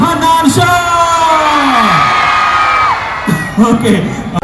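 A large crowd of fans at a public appearance by a singer erupts in loud, sustained cheering and whooping, with shouts and yells rising over a dense roar that swells again toward the end.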